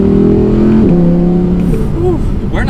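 A 2018 Audi R8 V10 RWS accelerates in manual sport mode, its engine rising in pitch through quick gear shifts with sharp drops between gears, loud and close from inside the cabin.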